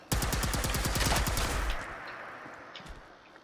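Rapid automatic plasma weapon fire in Fallout 76, a dense burst of sharp repeated shots lasting over a second and a half, then cutting off into a fading ambient tail.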